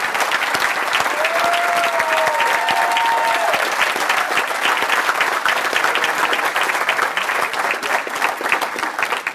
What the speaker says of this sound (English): If you could just stand so we can give you one more round of applause